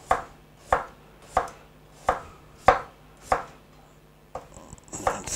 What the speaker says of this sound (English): So you cut your potatoes in small slices